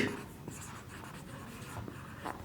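Chalk or marker writing on a board during a lesson, a faint, steady scratchy stroking with a few short taps, quiet and close, with no talk over it.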